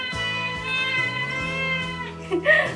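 A cat meows in a few short, close calls, with a person talking over it.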